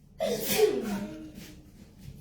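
One sharp sneeze in a home kitchen bursts out after a brief quiet, with a breathy onset and a trailing exhale. It is fairly close and stands alone, followed by faint background noise.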